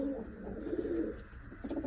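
Pigeon hen, a new female kept for pairing and breeding, cooing close by in a steady run of soft low coos with no talk over it.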